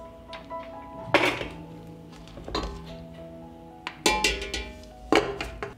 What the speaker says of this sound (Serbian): Tegle stavljam u ekspres lonac.